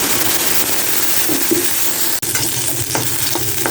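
Small onions (shallots) frying in hot oil for a chili chutney, a steady loud sizzle with stirring scrapes throughout, close to the pan.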